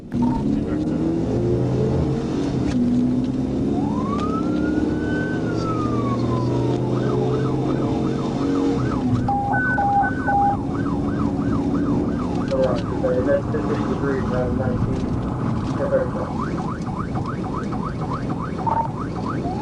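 Police car siren wailing and yelping through a high-speed chase, loud and continuous over engine and road noise, cycling through several tones, with radio chatter and voices heard intermittently.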